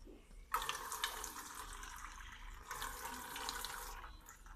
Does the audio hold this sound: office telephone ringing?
no